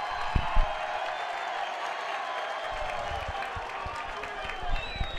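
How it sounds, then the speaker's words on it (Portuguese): Fans at Ipatinga's stadium applaud their player Luiz Felipe as he is substituted in a Campeonato Mineiro match against Democrata GV; a steady, distant wash of clapping and crowd noise runs throughout, with commentators talking over it. "obviamente, aplaudido pela sua torcida"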